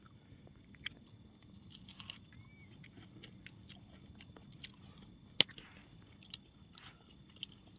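Someone bites and chews roasted corn seasoned with salt and lemon, giving faint, close, sparse crunchy bites scattered over a quiet background without speech.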